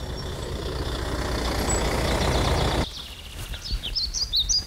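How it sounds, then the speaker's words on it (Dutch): A truck rumbles loudly past through a quiet, near-silent area, its engine noise dropping off sharply partway through, with birds chirping faintly in the background. "dan komt de vrachtwagen weer aan"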